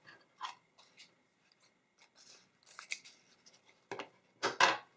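Scissors snip through burlap ribbon in a run of crisp, crunchy cuts, close and fairly loud, with short gaps between strokes and a heavier cluster of snips near the end, no talk.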